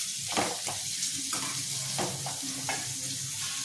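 Amla and green chillies for a sesame chutney sizzle gently in a pan on low heat, a close, steady frying hiss broken by several soft scraping strokes of stirring.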